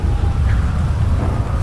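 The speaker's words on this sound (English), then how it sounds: "it's raining so heavily that the fire almost shuts down" Heavy rain during a thunderstorm in the video game GTA 5 makes a loud, dense roar, with deep thunder rumbling low underneath for the whole stretch.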